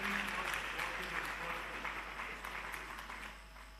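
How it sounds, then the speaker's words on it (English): Audience applause at an annual general meeting and scientific conference, a steady wash of many hands clapping that fades slightly toward the end, with faint voices underneath. "May I just ask our audience to please give these 5 ladies a resounding round of applause"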